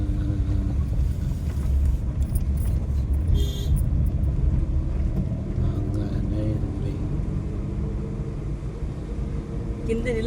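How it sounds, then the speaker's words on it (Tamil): Interior of a vehicle driving down a road from Tirumala, a steady low engine and road rumble throughout, with faint voices under it. "நாங்களும் வண்டி ஓட்டிக்கிட்டு தாங்க இருக்கிறோம்."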